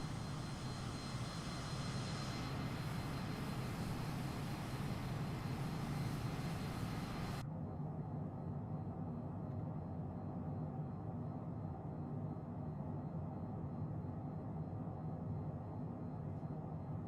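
Simulated aircraft engine roar during a landing in Microsoft Flight Simulator 2024, a loud steady drone that abruptly drops to a duller, lower rumble partway through and continues unchanged to the end.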